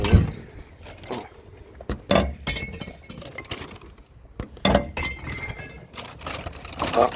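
Glass bottles dropped one after another into a public recycling container for clear glass, giving a series of loud clinks and shattering crashes with short pauses between them.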